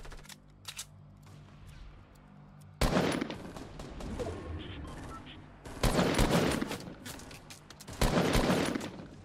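Fortnite squad match gunfire in three loud automatic bursts, each several seconds long, separated by quieter stretches where players talk.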